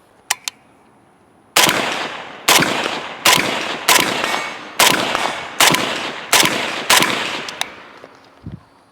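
Suppressed gunfire from an FB Radom Mini Beryl 5.56 rifle: eight sharp, loud reports fired in a steady semi-automatic rhythm about a second apart, each followed by a brief decay, after a couple of faint clicks.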